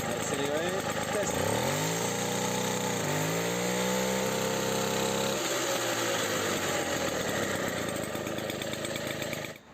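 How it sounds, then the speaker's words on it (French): An AV85 scooter engine, freshly serviced, revs hard in repeated acceleration bursts, its rising and falling whine close and loud throughout. "Je vais accélérer. Test."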